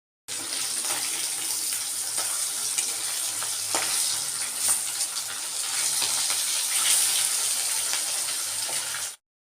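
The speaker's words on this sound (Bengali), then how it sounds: "বন্ধুরা মাছ ভাজার তেলের মধ্যে দিয়ে দিচ্ছি জিরে তেজপাতা ফোড়ন" Cumin seeds and bay leaves tempering in hot oil left from frying fish, a loud continuous sizzle with crackling and pops that holds steady for several seconds and then cuts off.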